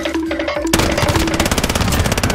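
Sustained automatic gunfire from a weapon in a video game, loud and near, a fast even rattle of shots that starts abruptly and runs without pause, no talking.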